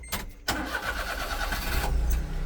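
A Daihatsu mini dump truck engine is cranked by the starter for about half a second, then catches and settles into a steady, close, rumbling idle, with no talk.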